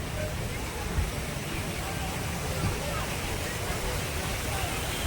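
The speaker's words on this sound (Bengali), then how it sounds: "এখানে হচ্ছে ঝর্ণার জল" Splashing water from a fountain at a Kali Puja festival pandal and fair in Rajarhat: a steady, dense rush of spray that fills the scene, with crowd babble mixed in.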